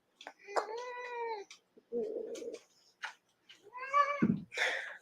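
A displeased house cat meows loudly several times while being picked up for a bath, drawn-out complaining cries with short pauses between, and a person murmurs briefly in between.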